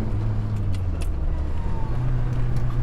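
A four-cylinder sports car engine drones steadily nearby with audible induction noise, its low harmonic tone holding and edging up under light road rumble, with no talking.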